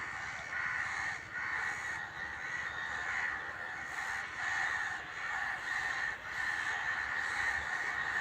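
Several crows caw back and forth in steady, repeated bursts, fairly loud and close, with no talk over them.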